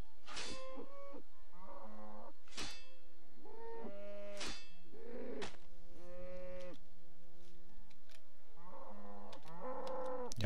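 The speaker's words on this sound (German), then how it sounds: "Greifen wir mal diese Kuh an." A cow in the video game RuneScape lets out a series of synthetic moos and grunts under attack, separated by clicks and short pauses, clean and isolated against silence.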